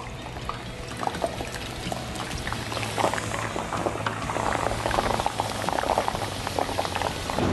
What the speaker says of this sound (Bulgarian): Изцеждам ги колкото е възможно и един по един влизат в на горещената мазнина.